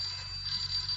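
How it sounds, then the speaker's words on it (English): A telephone bell ringing in an old-time radio comedy scene, a brief steady electric trill heard alone without voices. "the phone's ringing"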